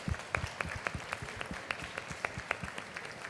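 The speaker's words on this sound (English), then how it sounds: "give all 5 of them a huge round of applause" Audience applause at a book fair event, the Bienal do Livro in Rio, fairly faint and distant, with scattered individual claps standing out in a steady patter over about three seconds, no talking.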